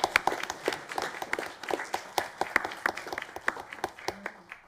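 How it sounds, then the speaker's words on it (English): An audience at a school board meeting breaks into applause, a moderate patter of many hands clapping unevenly for several seconds, with faint voices underneath. "we'll clap for them"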